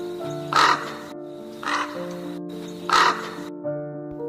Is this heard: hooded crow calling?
yes